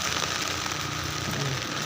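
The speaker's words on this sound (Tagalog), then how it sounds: "tuloy-tuloy pa rin ang pag-ulan dito sa amin sa Cardona" Steady, dense hiss of heavy rain pouring down continuously with no gaps during flooding in Cardona, fairly loud and close, with no voices.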